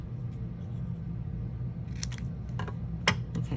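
Snips cutting thin chipboard strips, a few crisp snapping cuts clustered in the second half after a quieter stretch, close and fairly clear, no talking.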